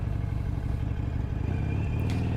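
Harley-Davidson Iron 883 (XL883N) motorcycle being ridden, a steady low engine rumble with a continuous even drone throughout, close and fairly loud with no talking.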